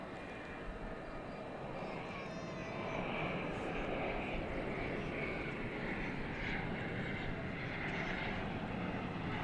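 An aircraft on approach to land at Dallas/Fort Worth airport at night gives off a faint, steady engine rumble and whine that rises a little after a few seconds and holds.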